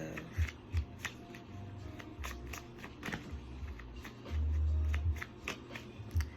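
Tarot cards are shuffled by hand, a string of quick close riffling flicks and soft slaps with brief pauses and a longer low rustle near the end, with no one talking.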